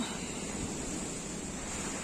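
Steady roaring hurricane wind buffeting the microphone, a constant broadband rush with no pauses and no voices.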